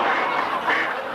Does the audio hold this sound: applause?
no